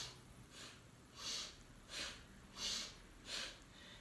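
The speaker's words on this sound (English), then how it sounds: "I'm inhaling and exhaling both through the nose" Slow, quiet breathing in and out through the nose during yoga, about five soft airy breaths rising and falling in a steady rhythm, close and faint with no talking.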